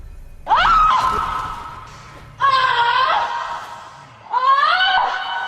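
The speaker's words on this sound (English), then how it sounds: "You can hear the screams from here" Three drawn-out, rising screams ring out in a Blood Bowl video game match, each a loud wailing burst followed by a short gap.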